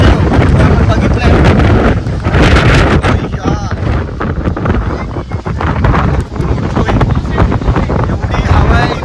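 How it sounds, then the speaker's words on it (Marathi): Strong monsoon wind blasts across the microphone at Bhandardara dam in Maharashtra, loud buffeting gusts that rise and dip, with a voice talking intermittently beneath the roar. "तुम्ही बघू शकता इथे खूपच असा वारा सुटलाय"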